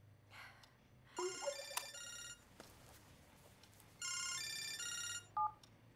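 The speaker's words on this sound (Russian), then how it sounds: "У меня тут звонок, наверное, по работе." A telephone rings in two bursts of electronic ringtone, the first near 1.2 seconds and the second near 4 seconds, followed by a short beep. Quiet room hum fills the gaps between rings, and nobody speaks.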